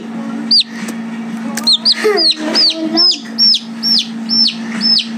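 Chickens cluck and squawk in a rapid series of sharp, repeated calls close by, over a steady low hum.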